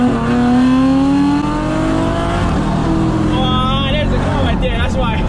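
A 707 hp Jeep Trackhawk accelerates hard in a race, its engine roaring loud and close with a steadily climbing pitch that continues throughout, and faint voices mixed underneath.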